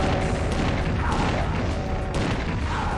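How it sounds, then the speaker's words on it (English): Rocket launcher blasts in Doom II against Hell Knights give a dense, continuous barrage of booming explosions and crashing impacts, loud and sustained, with bursts standing out near the middle and toward the end. "I'm going to use the rocket launcher for these 3"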